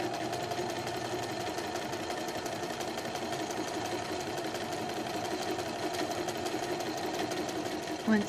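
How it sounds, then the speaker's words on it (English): A sewing machine stitches fabric 1/8 inch from a folded edge, a close, continuous mechanical whir with fast needle rattle running steadily throughout, with no pauses. "we are sewing 1/8 inch from the folded edge and backstitching at the beginning and at the end"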